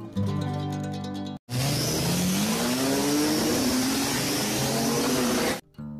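A race car engine roars loud and close, its pitch climbing steadily as it accelerates over about four seconds, set off by brief gaps before and after.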